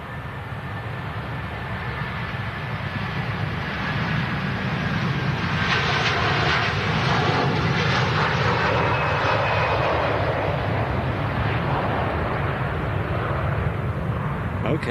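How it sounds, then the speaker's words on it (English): A departing airliner, an American A321, builds into a broad, steady jet engine roar with deep rumble that swells and holds at full strength, with spotters' voices faintly under it. "That's a rumble. Very nice departure."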